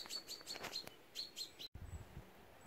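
Outdoors near Lough Dan in County Wicklow, a mother bird calls to her fledgling with a quick series of faint, thin, high chirps, then a brief pause and low background rustle.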